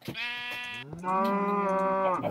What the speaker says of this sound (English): There's sheep that have fallen in the holes there